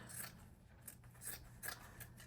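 Scissors cutting through ripped denim jeans make about four quick, soft snips up close in an otherwise quiet room.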